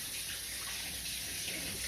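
Tap water runs in a continuous, even hiss and splash as something is rinsed in a sink, with no voices.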